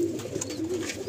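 Pigeons coo softly inside a loft, low repeated calls rising and falling close by, with faint rustling and the odd chirp in the background.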